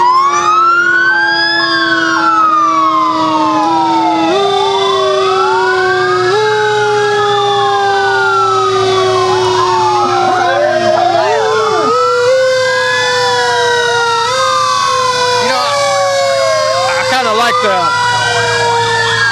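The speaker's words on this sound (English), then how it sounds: "Another big fire truck." Fire truck sirens from the Lockhart Fire Department at a Christmas parade, several wailing sirens rising and falling and overlapping, loud and continuous with a steady horn tone and crowd noise beneath.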